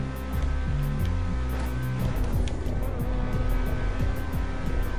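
Revving car engine in GTA 5 Online, racing with repeated throttle bursts and gear shifts, a choppy rising and falling growl with rapid clicks, loud and close throughout with no talk.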